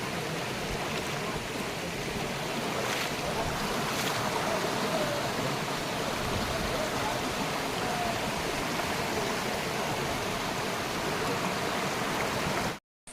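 Broadband rushing water from a stream near the Valasa waterfall, a steady close wash that runs unbroken for about thirteen seconds and stops abruptly at the end.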